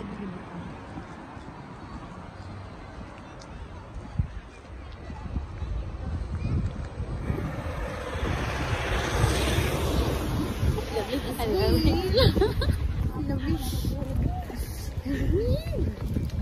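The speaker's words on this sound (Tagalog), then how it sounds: "Yeah, so windy." Strong wind buffeting outdoors on a cold day, a steady broadband rush that swells louder partway through, with people talking over it.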